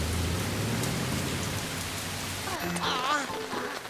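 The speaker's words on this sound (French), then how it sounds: "il ne pourrait pas arrêter de pleuvoir maintenant" Steady rain patters on a surface, with a voice talking briefly over it near the end.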